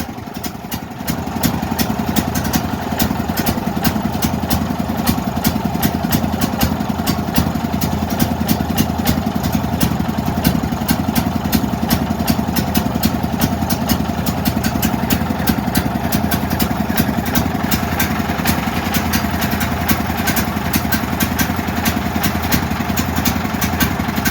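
A Duramax 8500 dual fuel generator engine runs steadily up close, a loud, continuous mechanical drone with a fast, even pulse that holds constant from start to finish.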